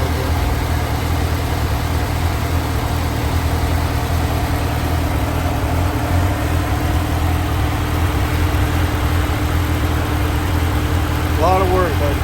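A car engine with a stage 2 cam idles in a steady, loud low rumble throughout, with a faint whine near the end.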